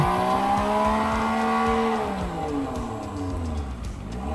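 An Evinrude E-TEC 90 HP outboard boat engine runs close by with a steady droning hum whose pitch slides downward as it slows, then holds at a lower rumble.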